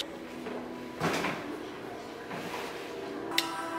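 A door shuts in a quiet home: a soft knock and rattle, then a sharp latch click near the end.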